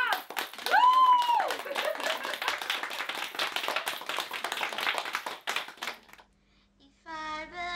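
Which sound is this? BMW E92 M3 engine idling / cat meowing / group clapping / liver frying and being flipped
group clapping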